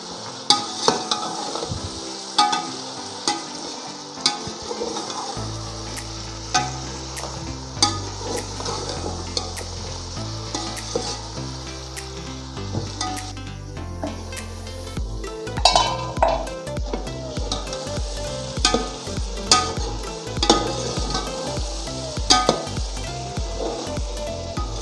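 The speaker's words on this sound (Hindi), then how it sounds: "और इनको 5 से 10 मिनट तक अच्छी तरह भूनेंगे।" Whole spices, crushed red chilli, chickpeas and potatoes roasting in oil in a pan for pulao, with frequent metal clinks and scrapes of a spoon stirring over a soft sizzle and a steady low hum.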